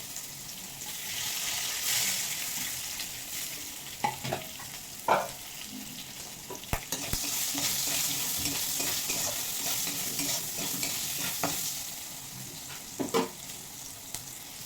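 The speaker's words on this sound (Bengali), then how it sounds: "বন্ধুরা আমটা একটু ভেজে নিয়েছি" Mango pieces frying in a pan with salt and turmeric, a continuous bright sizzle broken by intermittent scrapes and knocks of a stirring spoon, close and without any talk.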